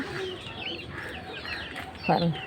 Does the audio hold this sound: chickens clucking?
yes